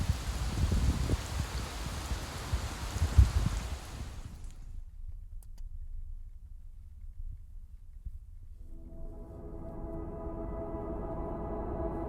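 Rain patters steadily and fairly loud on a VW California camper van at a stormy campsite, then cuts off into near silence before a faint hum comes in.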